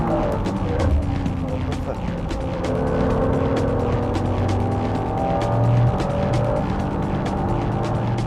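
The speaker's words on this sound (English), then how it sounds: "The NSXR passes the 330 horsepower European spec Supra at the first" A Honda NSX-R and a 330 horsepower European-spec Toyota Supra race on track, engines droning steadily with revs rising and falling through corners and a faint tire squeal, under a commentator's voice.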